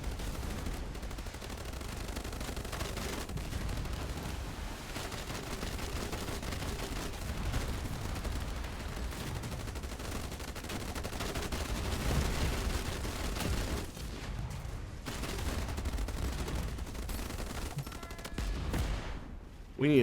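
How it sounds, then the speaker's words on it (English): Ships trade dense, continuous gunfire in a naval battle video game, a steady barrage of booms and cracks that runs the whole way through with little letup, loud and busy, with a player voice talking over it. "as we get closer to destination, it looks like we are immediately under fire"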